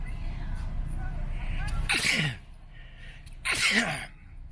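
Two sharp sneezes about a second and a half apart, close and loud, each a sudden burst after a quick inhale, over a low background hum.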